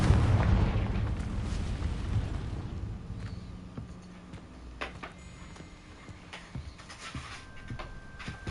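A Confringo spell explosion in the Hogwarts Legacy game lands as a heavy booming blast up front, then rumbles away into a long fading tail broken by scattered smaller pops and crackles.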